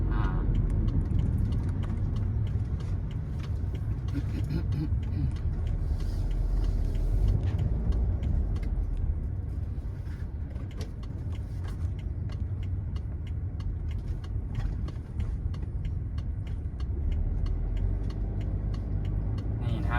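A remapped BMW F10 with the N47 diesel engine drives along, its low engine drone and road rumble steady from inside the cabin, with no speech.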